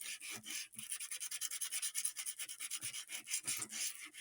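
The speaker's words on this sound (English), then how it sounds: "just a light sanding, just to give a slight surface for things to stick to" Quick, light back-and-forth rubbing of fine sandpaper on a playing card, a steady hissing rhythm of short strokes with no voices.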